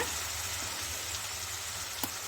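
Grated tomato sizzles steadily in a hot pan, a close, even hiss with a faint stir near the end.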